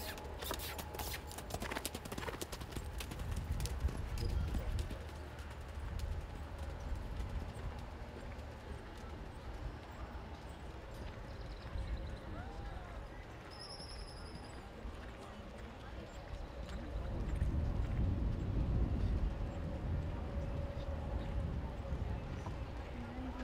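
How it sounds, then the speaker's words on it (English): Horses cantering around an arena during a 4-H horse and pony equitation class, with steady hoofbeats and a low rumble under ongoing background voices, growing louder as riders pass close near the end. "Canter your horse, please. Canter."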